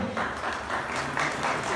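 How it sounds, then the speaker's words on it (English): Faint, continuous crowd applause fills the hall at the inauguration of the Nizam Asif Jah VI wardrobe exhibition in Purani Haveli, an even wash of distant clapping with no pauses. "Give a big round of applause."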